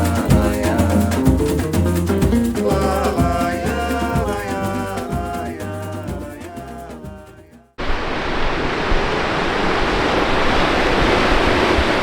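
Sea waves breaking on the shore on a grim evening by the coast near Sunderland, a broad steady roar of surf heard up close after music cuts off abruptly.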